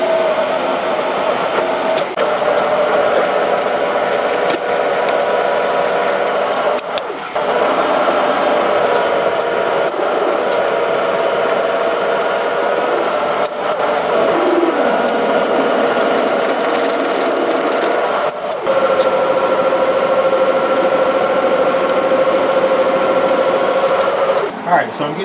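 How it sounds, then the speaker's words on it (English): A boring head on a machine drills out a steel ear to one inch, giving a steady close mechanical whine with a sustained tonal hum that runs throughout with only brief dips. "I'm now going to get it drilled out to 1 inch."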